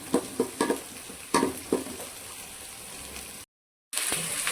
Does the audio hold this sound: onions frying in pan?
yes